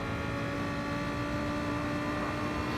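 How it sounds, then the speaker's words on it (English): Hurricane race car engine roaring steadily on an oval circuit in a racing video game daily race, a loud continuous drone with a constant pitch and no voices. "Whereas this Hurricane, the roar of that engine"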